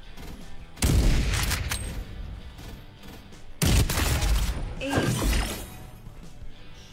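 Video game gunfire: two loud bursts of shots with crashing impacts, each trailing off, and occasional quiet talk between them.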